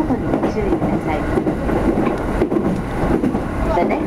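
E231 series Ryomo Line train bound for Maebashi arriving at Urawa, heard from the rear: a loud, steady rumble of wheels on rails with faint clacking, and voices heard under the noise.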